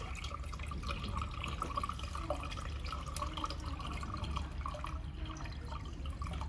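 Water pours steadily into the coolant tank of a 1000–2000W manual handheld fiber laser welding machine, a continuous close trickling and splashing with faint drips and no talking.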